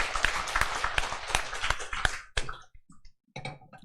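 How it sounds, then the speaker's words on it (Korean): A church congregation at an Easter Sunday service gives a burst of clapping, brisk and fairly close, tapering off into scattered claps and a few faint murmurs after about two and a half seconds. "일어서지는 않겠지만 격려의 박수 축복해 주시기 바랍니다."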